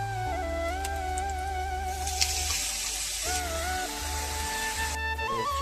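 Tap water runs steadily into a sink while paddy straw mushrooms are washed in a home kitchen, a continuous close splashing hiss with faint tonal hum underneath and no talk.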